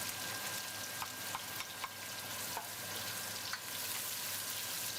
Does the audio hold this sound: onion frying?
yes